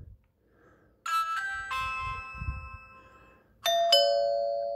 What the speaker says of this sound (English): And that is the Ring Doorbell.